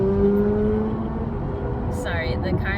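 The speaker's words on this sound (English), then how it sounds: "The car next to me is just being aggressive" Road noise from a car cruising in traffic, with a steady low engine drone and a neighbouring car in the next lane pulling alongside aggressively; a faint whine and brief higher squeals rise near the end.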